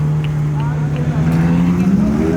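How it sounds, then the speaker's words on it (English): McLaren sports cars pull in at a Dream Ride car gathering, a steady loud engine drone with rising pitch as they roll closer, chatter from people nearby over the engines. "All the McLarens coming in."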